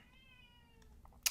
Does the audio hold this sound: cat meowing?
yes